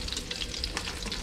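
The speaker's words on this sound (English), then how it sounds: "Then we're gonna deglaze the pan." Sauteed mushrooms, tomatoes and artichokes in a pan being deglazed, giving a steady close sizzle and bubbling hiss with faint stirring scrapes, no talking.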